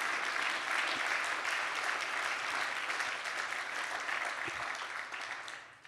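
Audience applause honoring veterans at a community meeting, a dense, even wash of many hands clapping throughout, moderately near and steady before tapering off at the end, with no voices over it.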